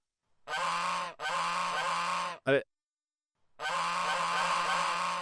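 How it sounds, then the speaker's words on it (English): A goose honk sound effect from a WordPress plugin plays as drawn-out, nasal honks: two long blasts back to back, a brief squawk, a pause, then another sustained honk, loud and alone. "All your links stop working and a goose sound appears."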